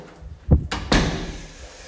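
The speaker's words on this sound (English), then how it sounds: "So I'm just going to close this door." A storage room door in a rented flat swings shut with a close, solid knock, followed by a short second thud and a fading rattle.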